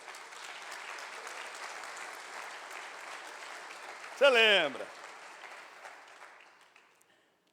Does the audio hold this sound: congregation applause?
yes